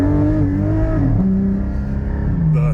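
Car fitted with a Soul Performance V2 exhaust accelerating hard, a loud, close engine roar whose pitch climbs, drops and climbs again as the tires break loose, ending with a brief hiss and no talking.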